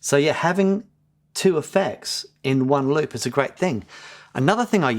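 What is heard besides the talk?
No everyday noises stand out.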